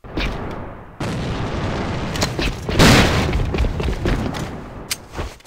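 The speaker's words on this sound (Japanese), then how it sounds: "手榴弾を使うぞ。" A grenade explodes in the online shooter AVA, a heavy booming blast with rumbling tail amid scattered gunshots, close and loud throughout.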